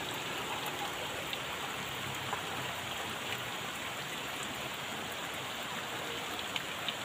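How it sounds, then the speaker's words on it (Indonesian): Heavy morning rain pours steadily over a village beside rice fields, a dense continuous hiss with scattered drops tapping on nearby surfaces and no talking. "Bikin betah ya suasana hujan di pagi hari ini"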